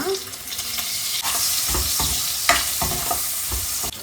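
Onion frying in hot oil in a pan for a village-style fish curry tempering: a steady crackling sizzle broken by repeated scraping strokes of a spoon stirring, close by with no voices.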